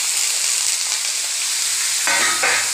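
Onion, garlic, ginger and chilli powder frying in a pan for a mushroom and roselle leaf curry, a dense, close hiss of sizzling oil with a brief tonal scrape of stirring near the end, no speech.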